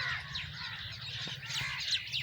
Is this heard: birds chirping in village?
yes